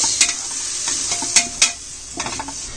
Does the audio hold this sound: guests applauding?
no